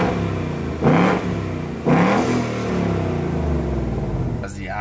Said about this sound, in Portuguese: se liga o ronco ali do lado de fora pra vocês verem